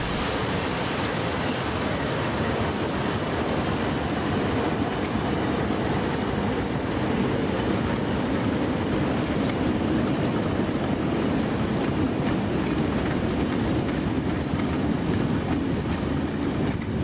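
Trains hauled by locomotives 4306 and 4001 arriving at Thelmere in New South Wales, heard as a steady, distant broadband rumble and rolling noise that continues evenly throughout.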